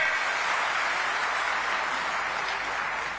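Sustained clapping from a large crowd at a PM Kisan farmers' gathering in Raipur, steady and somewhat distant, tapering slightly toward the end.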